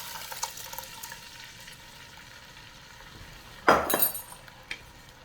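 Meat drippings simmer quietly in a pan for pot roast, then juice poured in sets off a sudden loud, crackling sizzle that fades back down.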